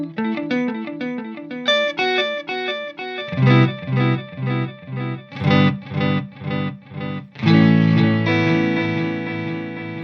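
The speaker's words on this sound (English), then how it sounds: "So the digital delay is very bright and high fidelity." An electric guitar runs through a bright, clean digital delay pedal, playing picked melodic phrases, then rhythmic chords, then a sustained strum, each note followed by crisp, exact repeats. It is loud and close, with no voices.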